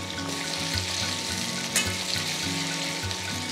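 Tomato with pieces of peeled red pumpkin and drumsticks sautéing in a pan, a steady close sizzle with light stirring scrapes throughout, no voices.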